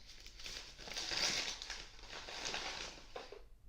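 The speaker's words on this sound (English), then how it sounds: "All right, so unwrap the present." Paper gift wrapping crinkles and tears as it is pulled off a wine bottle, a steady close rustle and crumple running for a few seconds with no voices over it.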